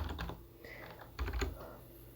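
Someone types a word into a search box on a Windows computer keyboard, a short run of close, quick key clicks in two small clusters, with no talking.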